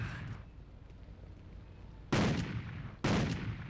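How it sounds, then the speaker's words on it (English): Two loud, sharp shotgun blasts from a Spaz 12 in the video game Hitman Contracts, about a second apart, each with a heavy broadband crack and short decay, following a faint earlier burst. "Coming in second is the Spaz 12, which is the most powerful shotgun in the game because it packs a violent, fast blast and an 8-round clip."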